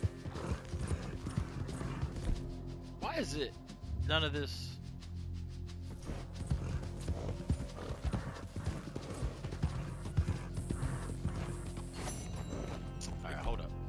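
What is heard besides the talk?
horse hooves in video game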